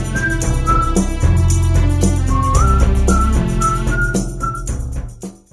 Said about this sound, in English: this whistling part that kind of sort of the same melody line